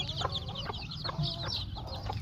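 Young poultry chicks on a farm, about three weeks old, keep up a quiet, steady chorus of high, repeated cheeps with a few lower clucking notes mixed in. No voices are heard.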